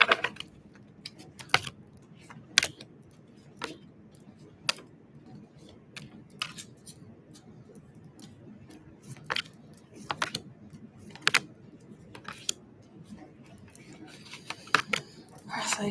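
Soft, irregular riffling and tapping of tarot cards being shuffled close by, with scattered sharper clicks over a quiet background.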